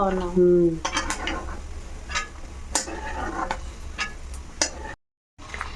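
Grated coconut fries in ghee with a soft, low sizzle, with scattered clinks and scrapes of a utensil against the pan and a brief cut to silence near the end.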